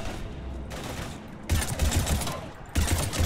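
Heavy automatic gunfire in Mass Effect 3 during an attack on Earth, loud rapid bursts rattling in two long volleys with dense fire throughout.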